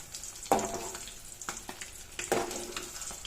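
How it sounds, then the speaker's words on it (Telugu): Eggs frying in oil in a pan, a steady close sizzle with two sharper bursts of spitting and crackle as the eggs are turned, no talking. "ఇలా వేయించుకోవడం వల్ల ఎగ్ టేస్ట్ బాగుంటుంది చూడండి ఎగ్ ఫ్రై చేస్తున్నాము"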